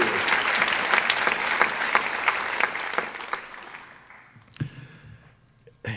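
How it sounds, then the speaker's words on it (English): Audience applause at an evening benefit event for the Cleveland Rape Crisis Center, steady and dense clapping for several seconds that thins out and fades, with a few scattered claps near the end. "Let's give them a round of applause."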